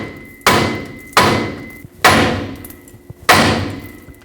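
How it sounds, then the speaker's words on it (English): Four loud, sharp metallic hammer blows strike the steering knuckle of a 2011-2016 Ford F-350 to break the tie rod stud free, each ringing impact spaced under a second apart and decaying quickly, close up with no talking. "when we hammer the knuckle to break the tie rod stud free, it doesn't fall off completely"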